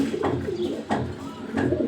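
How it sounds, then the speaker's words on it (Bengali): A female Maxi Dobaj racing pigeon coos close by, three repeated throaty coos at a steady pace. "মাক্সি দো বাজ মাদি কবুতর ফুল রানিং কবুতর"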